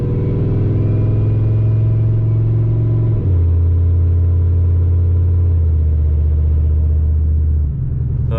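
A big single-turbo Ford F-150 pulls through a long first gear on the street, its engine droning loud and steady with the pitch dropping as it shifts, heard from inside the cab with no talk.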